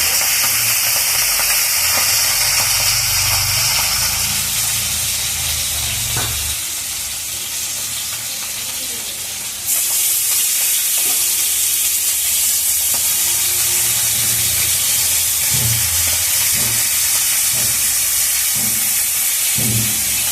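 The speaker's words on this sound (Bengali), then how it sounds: "তেলটা গরম হয়ে গেছে, আমি মাছ ছেড়ে দিচ্ছি তেলের ভিতর কড়াইতে।" Hilsa fish pieces frying in hot oil in a wok give a loud, steady sizzle and hiss that runs for about twenty seconds, with a brief dip midway before the crackle surges again, and no voices.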